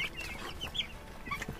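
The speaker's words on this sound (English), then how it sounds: "Baby chicken." A baby chicken gives a string of quick, high, chirpy clucks and peeps at close range over a soft, busy background, with no talking.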